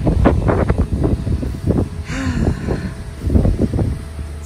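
Wind blows outdoors in gusty, buffeting bursts against the microphone, rumbling loudly and unevenly, with a faint passing vehicle hum in the middle.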